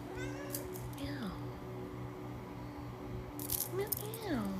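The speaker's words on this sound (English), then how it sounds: "Meow, meow. Meow, meow." A pet cat meows a few times, short rising and falling cries close by, over a steady background hum while a person speaks softly.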